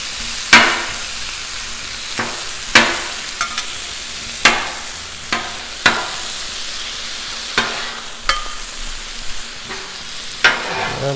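Gordita ingredients sizzle steadily on a Blackstone griddle, the constant frying hiss broken every second or two by sharp scraping spatula strokes against the hot steel, close and fairly loud with no talking.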